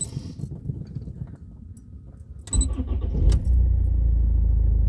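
An MG ZT diesel engine, just fitted with a new clutch, cranks briefly after some rustling and clinking, then catches and settles into a steady, loud, close idle.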